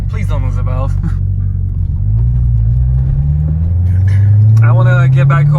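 Corvette C6 Z06 with an LS7 V8, its deep exhaust note climbing steadily in pitch as the revs rise toward redline, loud and close, with people talking at the start and end.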